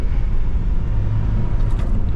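The diesel engine of a converted Mahindra Scorpio Classic runs with a steady, heavy low rumble, close and loud, with no talk over it.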